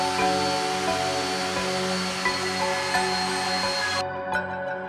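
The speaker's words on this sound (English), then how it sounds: "After achieving our final form with the router, I'm gonna use it again for the edges." A router shapes the edges of a wooden electric harp body with a continuous, fairly loud motor whine and cutting noise that stays steady, then cuts off abruptly near the end.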